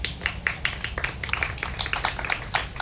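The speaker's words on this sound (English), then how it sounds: "Big round of applause." An audience claps for a guest speaker being introduced, a crowd of quick overlapping hand claps at moderate level that stays fairly steady for the short stretch.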